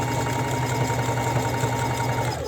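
A sewing machine runs a zigzag stitch over the fabric of a one-piece swimsuit, a close continuous mechanical whir with a fast even rhythm that stops abruptly at the end, with no speech.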